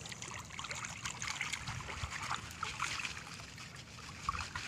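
Water flowing steadily near a Thai farm home with rice fields and fish ponds, a continuous close trickling and gurgling that stays even throughout, with no talk.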